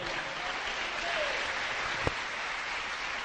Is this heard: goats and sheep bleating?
no